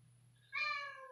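One short, clear meow from a cat during a scuffle between two cats, close and alone over a faint low hum.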